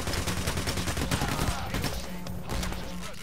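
Heavy, continuous gunfire during a bank heist in the game PayDay: The Heist, loud overlapping automatic bursts filling the whole moment.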